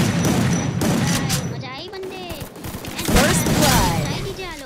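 Shotgun blasts ring out in a video game shootout, several loud booming shots in quick succession, heard over a fast-talking voice.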